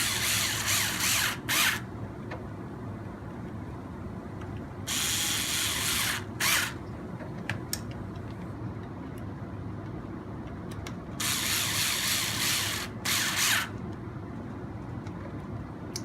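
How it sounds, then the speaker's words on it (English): Small screws driven into the plastic frame of an RC 4x4 CR12 crawler while fitting a bull bar, heard as repeated bursts of close ratcheting clicks and whirring with short pauses between them, no talking. "We can go ahead and tighten down on the frame first here."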